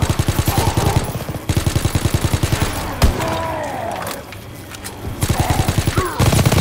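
Rapid automatic gunfire from a Type 1000 gun in a zombie video game, loud bursts of closely spaced shots separated by brief pauses and a single heavy crack in the middle, with no talk.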